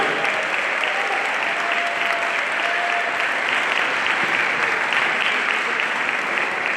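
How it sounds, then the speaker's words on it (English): An audience at an MLK commemorative breakfast in 2023 breaks into sustained, dense applause, loud and even from start to finish. "That's a clap right there."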